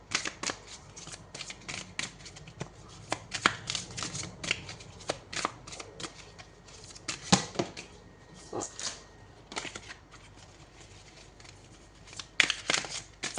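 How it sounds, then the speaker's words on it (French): Oracle cards riffle, slide and snap in the hands as one is drawn from the deck, a quiet sequence of crisp papery flicks and shuffles in irregular bursts with soft pauses between. "Alors, on va prendre une carte."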